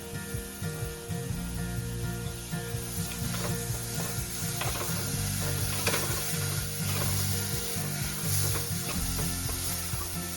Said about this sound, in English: Now we're going to put a little bit of our sofrito in there.